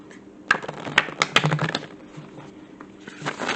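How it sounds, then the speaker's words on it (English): Oracle of the Mermaids deck being shuffled by hand, giving a run of crisp riffling card flicks and soft slaps close by, with no talking. "Give it 2 more shuffles."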